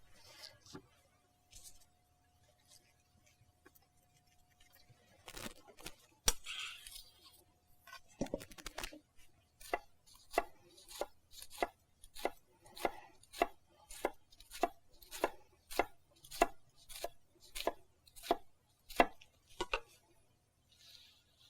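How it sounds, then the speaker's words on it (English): A sharp knife minces onion on a cutting board, starting with a few scattered cuts and then settling into a steady run of crisp, evenly spaced chops, close and clear. "And then we're going to mince some onion."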